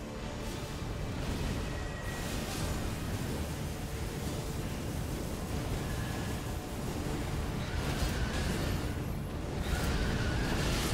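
A sustained, roaring explosion from the video game Elden Ring fills the whole stretch, a dense, continuous rumbling blast with swelling whooshes that stays loud and steady without any voices.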